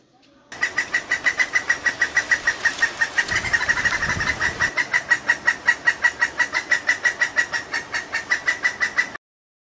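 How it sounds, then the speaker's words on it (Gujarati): A woodpecker calls in a long, evenly paced series of sharp, harsh notes, several per second, sounding close and clear with no other sounds around it, then stopping abruptly. "આ છે લક્કડ ખોદ લક્કડ ખોદ હંમેશા લાકડું ખોદવાનું કામ કરે છે તો બાળકો આપણે તેનો અવાજ સાંભળીએ"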